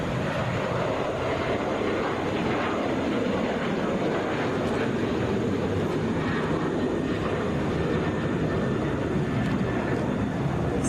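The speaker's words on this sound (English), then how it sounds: "This is Delta 1850 going to San Jose del Cabo in a Boeing" A Delta Boeing 737 departing Atlanta airport makes a continuous loud jet roar that holds steady for the whole stretch, heard alone without talk.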